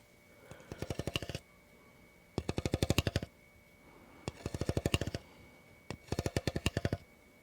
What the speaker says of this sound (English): What if we bring back the Apple Pencil?